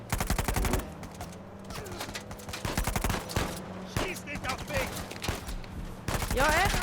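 Rapid bursts of gunfire in the video game Uncharted 4, with sharp repeated shots and rattling volleys close and loud across the whole stretch, firing alongside brief voices.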